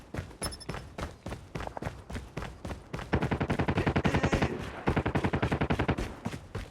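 Rapid gunfire from a .50 cal handgun in the mobile shooter game Call of Duty Mobile, loud and close, first in spaced bursts of shots and then a fast, steady volley over several seconds.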